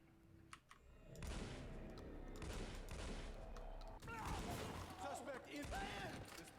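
Bursts of rapid gunfire crackle through the TimeShift video game, with a dense volley starting after a second and continuing amid mechanical clatter, while voices speak over the shooting.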